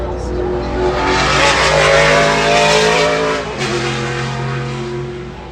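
A pack of about fifteen NASCAR race cars roars around the Mosport circuit in a close train, a loud, continuous engine howl that swells and fades slightly as the cars pass.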